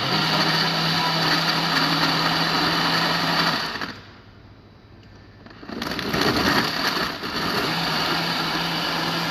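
A blender whirs loudly, cuts out for a couple of seconds, then starts up again and keeps running steadily.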